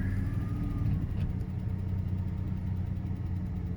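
A Daimler XJ40's engine runs with a juddery, shaky idle, a steady close-up rumble that holds for several seconds with no talking over it.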